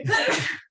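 One short, sharp human sneeze, a quick intake then a burst of breath, heard close and alone before silence.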